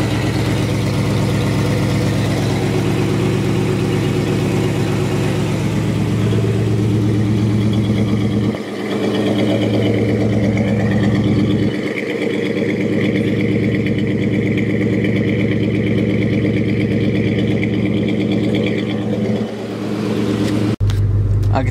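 A 1988 Chevrolet Caprice with true dual exhaust and an H-pipe idles steadily nearby, a smooth, deep, even rumble that holds for the whole stretch with a few brief dips in level and no talking.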